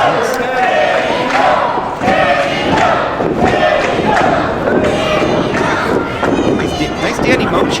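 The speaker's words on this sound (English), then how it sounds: "Nice Danny Moe chants here from the crowd in Priscilla Gymnasium" A loud crowd in a packed school gymnasium at an independent pro wrestling show, voices rising and falling in a steady rhythmic chant for a wrestler with scattered thuds from the ring, continuous and dense throughout.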